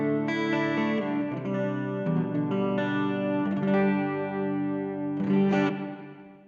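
Clean tone from a Harley Benton Airborne Go wireless modeling guitar amp: a sequence of bright, sustained electric guitar chords with shimmering chorus-like effect, ringing clearly with no voices.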